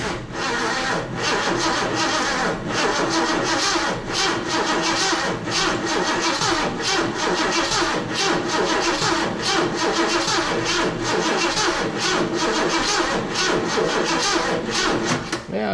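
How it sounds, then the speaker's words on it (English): Engine of a car wrecked and left sitting for twenty years cranking and running, a loud, continuous rough chugging with a faint rhythmic pulse, close up throughout and no voice. "Let's crank it over here."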